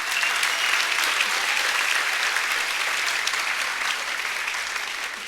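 Audience applause fills a school graduation ceremony for WMS staff, a steady, dense wash of many hands clapping at once, loud and sustained throughout before tapering slightly at the end.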